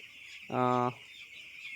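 A chick on a poultry farm gives one loud, steady peep lasting under half a second, close by, over a faint background hiss.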